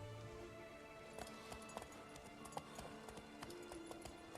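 Faint, steady clip-clop of galloping horse hooves in The Witcher 3 video game, under a constant electronic hum, with a few sharper taps scattered through.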